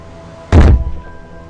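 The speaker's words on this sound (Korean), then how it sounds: "그때 선반 위쪽에 놓여져 있던 종공서랑 사전이 그만 아케미의 머리에 떨어지고 말았다." A heavy dictionary drops from a high shelf onto someone's head as a radio drama sound effect: one loud, dull thump with a short rumbling tail, alone with no talking.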